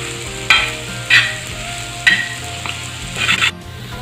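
Spiced vegetables for Mumbai street-style tawa pulao stirred and sizzling on a hot tawa, with a steady frying hiss broken by four sharp scraping strokes of the spatula, close and loud.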